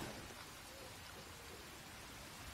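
Steady, dense rainfall pours down in Ghost Recon Wildlands, an even wash of noise with no breaks or louder spells that stays constant from start to finish.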